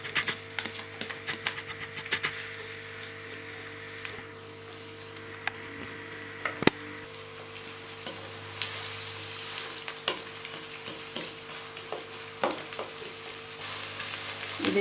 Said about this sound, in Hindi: ये देखिए प्याज हम भून रहे हैं।